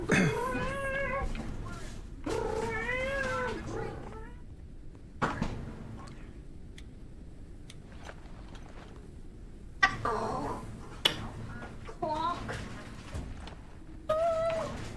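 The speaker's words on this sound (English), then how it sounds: "Meow." A cat meowing repeatedly, several drawn-out wavering meows near the start and again toward the end, with quieter gaps in between and faint background noise.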